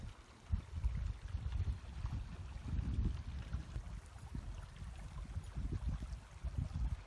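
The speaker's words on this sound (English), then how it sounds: "Look at this gorgeous creek going through." A creek flowing through a mountain meadow gives a low, steady churning rumble of moving water, close and continuous, with irregular surges and no talking.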